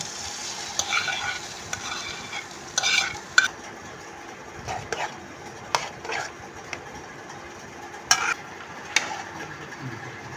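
Hot oil sizzles as brains fry under repeated stirring, with spatula scrapes and clinks against a pan at irregular intervals; no talking.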